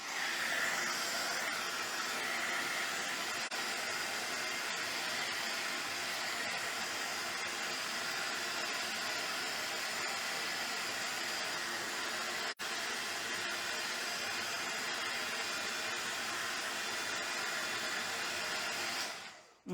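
Alcohol sprayed from a spray bottle onto an old towel in an ink-crafting session: a loud, continuous airy hiss that runs nearly unbroken for about twenty seconds, with a brief dip midway, and no talking.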